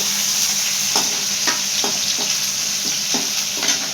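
Onions and chana dal frying in a pan, a steady close sizzle broken by a handful of scraping stirs spaced through the clip, with no voices.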